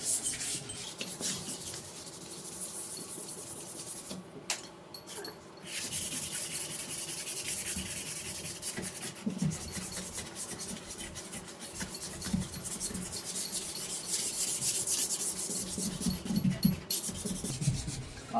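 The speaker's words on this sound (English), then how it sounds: "So I'll just do some of this hand sanding that has to be done around these edges." Golf cart body panel edges are hand sanded close by in a steady run of scratchy rubbing strokes. The strokes repeat at an uneven pace with a few short pauses, and nobody speaks.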